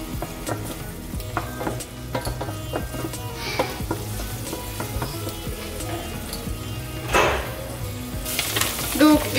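Onions fry in a pan with a dense, continuous sizzle and crackle. Scattered light clinks of a spoon against the pan run underneath, and the sizzle flares louder toward the end.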